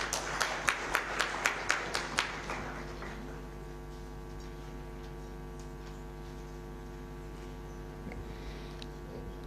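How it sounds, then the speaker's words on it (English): An audience at a talk-show event on ending child labour gives a short burst of sparse clapping, about nine distinct claps. It fades quickly into a quiet room with a steady electrical hum. "A round of applause."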